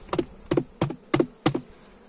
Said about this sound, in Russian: Пчелу надо стрясти.